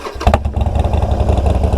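Motorcycle fitted with a new aftermarket exhaust, running loud and close with a sharp pop near the start followed by a steady, throbbing idle rumble.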